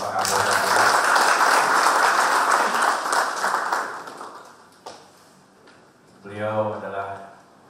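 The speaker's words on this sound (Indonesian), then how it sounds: "Tepuk tangan untuk Bapak Kapolda." An audience applauds for the East Java regional police chief at a formal morning gathering; loud sustained clapping fills the first four seconds, then fades, with a brief voice or sound burst near the end.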